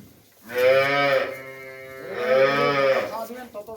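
A dairy cow on a farm in Dinajpur gives two long, loud, close moos, one after another, with someone speaking faintly nearby.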